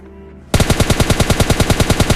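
Rapid automatic gunfire in PUBG Mobile Lite, a loud, steady burst of evenly spaced shots that starts abruptly after a brief quiet moment and runs continuously to the end.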